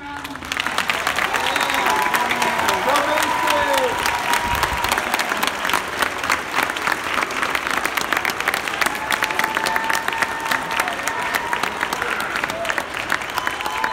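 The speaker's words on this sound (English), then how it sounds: "So can we just give them one more round of applause?" A church audience gives a sustained round of applause for the cast of an Elijah musical, dense even clapping throughout with some cheering and crowd murmur near the start.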